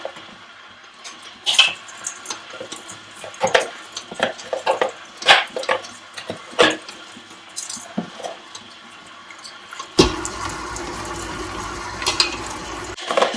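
Crushed ice is added bit by bit to a running mixer blending meat for Leberkäse, giving scattered crunchy clatters and splashy bursts, then a steadier churning whir toward the end, close by.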